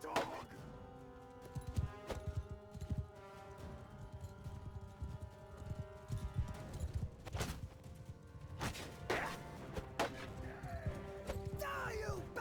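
Horses gallop in a Mount & Blade II Bannerlord battle, a rapid continuous clatter of hooves mixed with combat thuds and clashes, while a voice talks over it.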